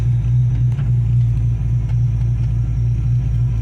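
An LS3 V8 in a 1970 Chevelle, badly in need of a tune, rumbles and revs nearby with a deep, steady, loud low drone and slight surges, no talking.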